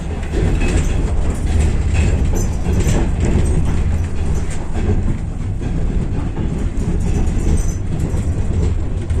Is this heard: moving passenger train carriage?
yes